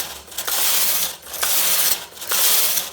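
A knitting machine carriage knitting a row from a punch card, a loud mechanical clattering sweep repeated in three passes, each separated by a brief clunk and a short lull.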